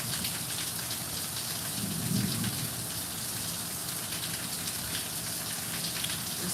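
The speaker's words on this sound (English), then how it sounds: "It's been raining now for about 30 minutes" Steady, dense rain falls throughout on a rainy day, a constant hiss of drops hitting surfaces with a faint low rumble near the middle, no talking.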